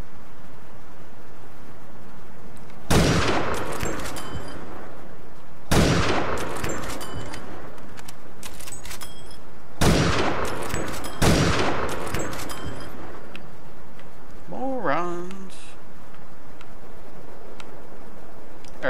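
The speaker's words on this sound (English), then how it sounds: "you'll see these grenades going off" Grenades going off in Grand Theft Auto IV on PC: four sharp, loud blasts spaced a few seconds apart, each with a ringing crackling tail, followed by a brief whistling, warbling tone.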